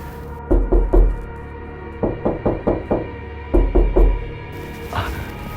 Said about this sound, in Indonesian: jam 2 dini hari, tiba-tiba terdengar suara ketukan pintu kamar Ali